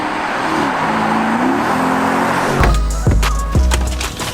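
An old V8 petrol Porsche Cayenne S idles with a steady hum, then pulls away. A deeper engine rumble rises near the end, with a few sharp knocks or clunks as it moves off.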